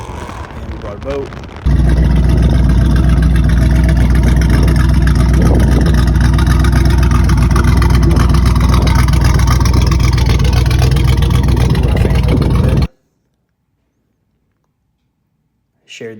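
A motorboat engine running loud and close in a continuous roar that begins abruptly and cuts off suddenly, leaving near silence.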